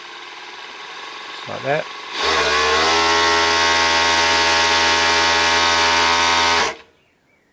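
A Singer 351G industrial serger runs at full speed, chaining out with a loud, steady high-pitched mechanical whir for about four seconds before stopping abruptly; a voice speaks briefly just before it starts.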